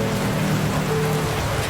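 Steady rain falls outdoors at a street food stall, a continuous broadband hiss of drops on surfaces with a low rumble underneath, even and moderately loud throughout with no voices.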